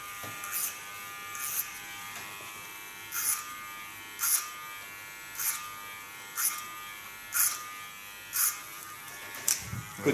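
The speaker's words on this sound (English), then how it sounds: "And just go in with my clipper." An electric hair clipper buzzes faintly and steadily while cutting hair, with short brighter bursts recurring about every second as the blade passes through.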